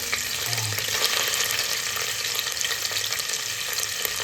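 Paneer fries in hot oil in a pan over a low gas flame, a steady dense sizzle that holds evenly throughout, close and fairly loud, with no voices.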